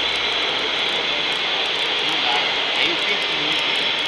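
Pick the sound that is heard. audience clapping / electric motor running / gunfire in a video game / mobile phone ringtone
electric motor running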